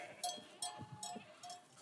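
Ewes grazing on invaded land in the Fontainebleau estate, giving several short, fairly close bleats spaced across a brief moment, with faint animal rustling between them and no talk.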